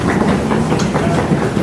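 A train carries a passenger home to Liverpool, a steady loud rumble with rhythmic clickety-clack from the carriage wheels on the rails, heard from inside and without voices.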